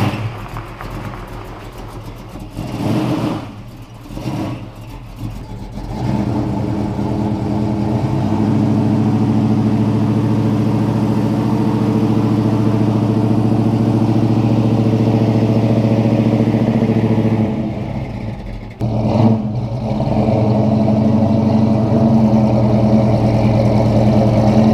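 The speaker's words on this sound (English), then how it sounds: "Nothing beats the sound of an old cammed Mopar." An old cammed Mopar V8 rumbles at a loud, choppy idle, with a few sharp revs early on and another blip later.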